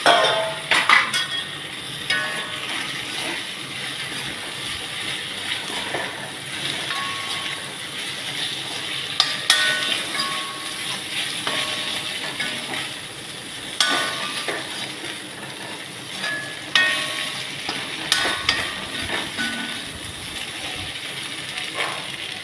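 Colocasia curry fries and sizzles in a pan while being stirred, with a steady crackle, scraping strokes and occasional utensil clinks close by over about twenty seconds.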